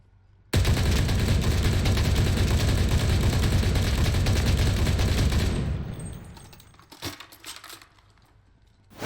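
A World War era MG13 machine gun fires in a video game, one long loud continuous burst lasting several seconds, then tailing off into scattered distant shots and battle noise.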